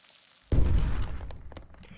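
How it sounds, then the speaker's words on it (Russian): A single sharp Minecraft-style explosion, re-recorded, bursts suddenly, then a deep rumbling decay and crackling debris fade over a second or so. "Вот взрыв, кстати, прикольный"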